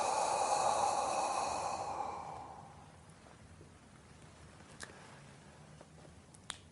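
A person breathing out slowly during a breathing exercise, a soft, long airy exhale that fades over about two seconds, followed by near silence with a couple of faint clicks.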